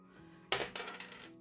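A six-sided die strikes a hard surface with a sharp clack, then bounces and rattles in two or three quicker, fading taps before settling, close and alone.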